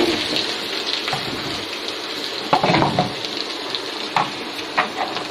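Garlic fries in a pan with a steady, dense sizzle close by, with a few brief scrapes and clinks of stirring breaking through now and then.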